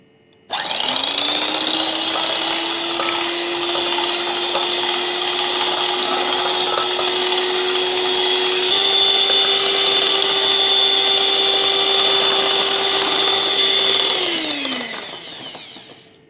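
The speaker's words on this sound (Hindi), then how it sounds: "इसमें डालेंगे चिल्ड फ्रेश क्रीम, अब इसे हम विस्क करेंगे।" Electric whisk whipping chilled fresh cream in a big freezer-chilled bowl, a steady high motor whine running unbroken for about fifteen seconds before winding down, close and loud with no talking.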